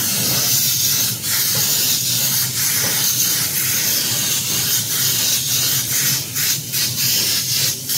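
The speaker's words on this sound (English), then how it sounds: "There's a little pearl on top of what I just sprayed, and a little bit more to the whole piece." Steady hiss of airbrush spray laying pearl paint over a 1/4-scale Spider-Man 2099 figure, continuous and close for the whole stretch with slight wavering in intensity.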